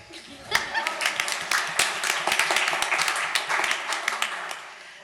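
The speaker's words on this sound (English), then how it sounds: "You can clap now." Audience at an entrepreneurship summit in Berlin clapping, a scattered patter of hands rising and thinning over several seconds, moderately distant, with faint voices and light laughter mixed in.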